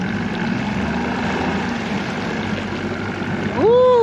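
A new outboard power head runs on a Ranger RT188 boat, a steady, loud motor drone that holds throughout and swells into a rising whine near the end.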